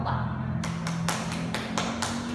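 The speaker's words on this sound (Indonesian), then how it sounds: "mari kita berikan aplaus untuk kelompok 4" A small group of students in a classroom claps, about seven crisp, evenly spaced claps over a steady low hum, close and moderately loud.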